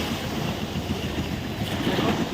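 Sea waves roll and crash as a fishing boat comes in toward the shore, a loud continuous surf roar mixed with wind buffeting the microphone.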